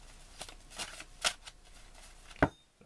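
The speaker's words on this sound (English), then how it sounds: "Shuffle these up, deal each player four." Quiet riffling and snapping of playing cards being shuffled, a few short bursts spread across a couple of seconds.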